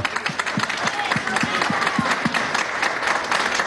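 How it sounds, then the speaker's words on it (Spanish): Dense audience applause at a salsa concert press event, a steady wash of many hands clapping close and loud with a few sharper claps standing out. "para que pida un fuerte aplauso."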